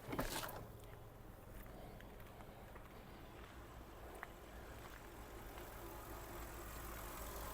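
A 2009 Volkswagen Golf Plus 6 with a 1.6 MPI engine idles quietly and steadily, a low even hum with no misfire, with a brief louder burst at the start.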